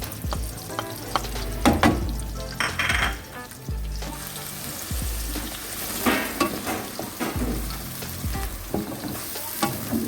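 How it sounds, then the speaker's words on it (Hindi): Chopped onions sizzling in hot oil for chicken karahi while a spoon stirs and scrapes the pan, crackling frying under repeated clatters and scrapes, no talk. "ऑयल गर्म हो गया हमारा, तो इसमें प्याज डालने लगी हूँ"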